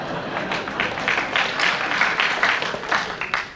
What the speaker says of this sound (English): I don't think the applause is actually well placed